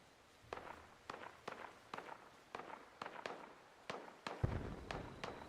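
Gunfire in the online game Fallout 76, a series of sharp, evenly spaced shots at moderate distance, about a dozen cracks with a heavier thump near the end.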